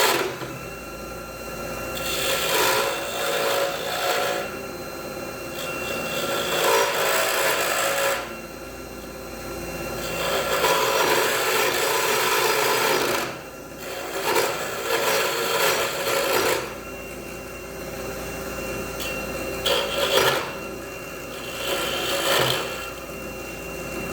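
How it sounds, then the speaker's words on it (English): A lathe chisel scrapes and cuts a spinning purpleheart wood pen blank in repeated close passes, a rough rasping whir that swells and fades as the tool meets the wood, over a steady motor hum. "this is the only lathe chisel I've got for now."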